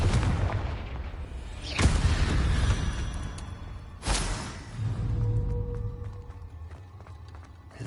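Two loud explosive blasts from the Confringo spell in Hogwarts Legacy on PS5 crack out a few seconds apart inside a cave, each followed by rumbling debris and a fading low boom.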